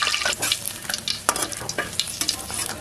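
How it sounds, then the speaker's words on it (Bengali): Pieces of potato, pointed gourd and paneer fry in a pan with a little salt and turmeric, giving a dense, close sizzle broken by frequent clattering stirs and scrapes. "এই পনিরের তরকারিটা জন্য প্রথমেই আমরা আলু পটল এবং পনিরগুলোকে এক এক করে অল্প পরিমাণ নুন হলুদ দিয়ে ভেজে তুলে নিচ্ছি।"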